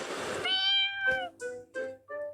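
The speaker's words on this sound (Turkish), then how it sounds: "Geliyor kedicik." A cat meows close by, several drawn-out, tonal meows in a row with short gaps, clear and alone without talking.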